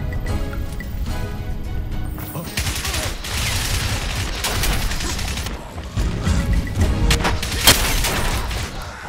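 A sustained firefight in the video game Crysis, with dense overlapping gunfire, heavy impacts and crashes that stay loud and chaotic throughout.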